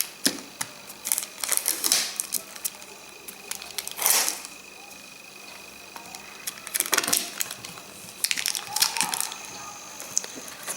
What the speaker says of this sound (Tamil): இந்த மாதிரி செல்லோ டேப்பை ஒட்டிடணும்.